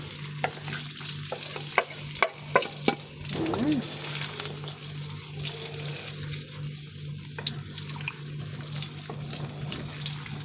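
Chili sauce ingredients frying in oil make a continuous close sizzle and bubbling. A few sharp clinks and stirring knocks come near the start, and a low steady hum runs underneath.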